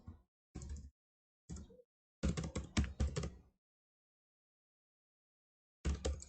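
Bursts of typing on a computer keyboard during desktop software programming work, with short clusters of keystrokes separated by pauses, close and fairly quiet, with no voices.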